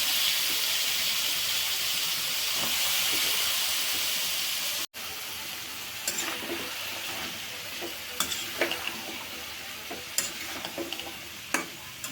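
Vegetables tipped into a hot spiced pan for a curry give a steady, fairly loud sizzle and hiss that carries through the whole clip, with a brief dropout near the middle and scattered stirring clicks and scrapes after it.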